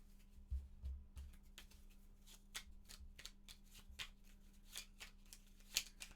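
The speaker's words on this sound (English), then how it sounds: "Shuffling tiles is hard." Board game tiles from Lost Ruins of Arnak being shuffled by hand on a table, a close run of dry clattering and sliding bursts in quick irregular rhythm, fairly quiet, with a faint steady hum underneath and no talk.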